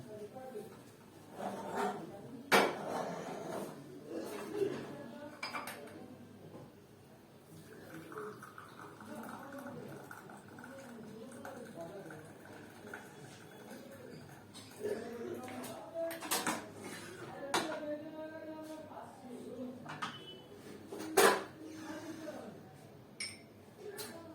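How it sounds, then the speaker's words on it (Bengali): Tea served into cups at home: scattered clinks and knocks of cups and dishes, several sharp taps standing out, heard under ongoing conversation. "চা ঢেলে নিচ্ছি"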